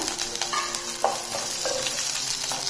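Ginger, dry red chillies and sliced green chillies fry in oil for a tempering with curry leaves and asafoetida, making a loud, continuous sizzle broken by stirring scrapes.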